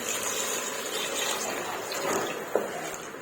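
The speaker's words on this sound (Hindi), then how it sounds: "अब हम इसमें तकरीबन 3 गिलास पानी डालेंगे।" About three glasses of water pour into a beef and ridge gourd curry in a pot, making a soft, steady gushing and splashing that stays fairly quiet throughout.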